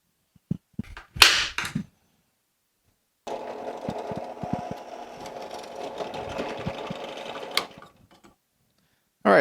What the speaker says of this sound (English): Now we just need to drill the hole for the forestay.